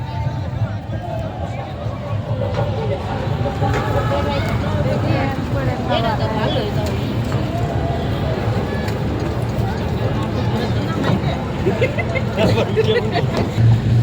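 Steady engine drone of a boat on a river trip near a riverside market landing, continuous and fairly close, with people talking and a crowd murmur over it throughout.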